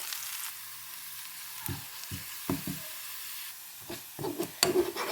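Onion, curry leaves and dried chillies fry in hot oil with a soft, steady sizzle, broken by several sharp crackles and knocks of stirring that cluster toward the end.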